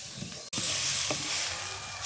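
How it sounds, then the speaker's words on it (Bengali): Rice sizzles steadily with salt, turmeric and spices in a hot pan, a loud continuous frying hiss with a brief scrape of stirring midway. "এখন ভালো করে আমি চালটার সঙ্গে সব মশলাগুলো কষিয়ে নেব।"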